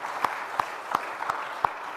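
A church congregation applauds during a Sunday worship service, a soft, even wash of clapping with a few louder individual claps popping out at regular intervals, no voices over it.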